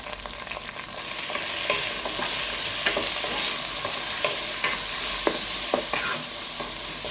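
Okra with a pinch of salt and turmeric frying over a high flame, a steady broadband sizzle broken by frequent scraping stirs of a spatula in the pan, close and continuous with no talk.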